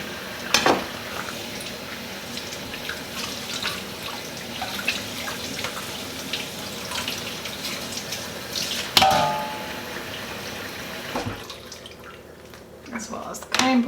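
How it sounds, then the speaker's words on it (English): Peppers rinsed under a running kitchen tap, a steady splashing water stream with a few sharp knocks and clinks, close by and fairly loud, tapering off near the end. "Again, wash the peppers."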